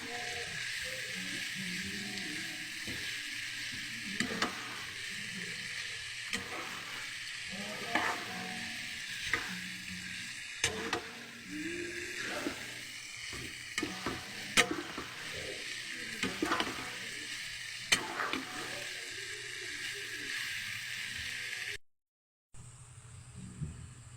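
Noodles fry in a pan and are stirred through a continuous, close sizzle broken by regular scraping strokes of the utensil, with no voices and a brief silent gap near the end.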